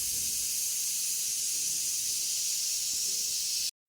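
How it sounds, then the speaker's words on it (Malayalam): A pressure cooker holding beef and koorka on a gas stove at high flame releases a loud, continuous steam hiss that runs steadily for several seconds, then cuts off abruptly. "ഇതേ ഗ്യാസ് സ്റ്റവ് ഒക്കെ ഓണാക്കിയതേ ഇപ്പോൾ വിസിൽ വരും."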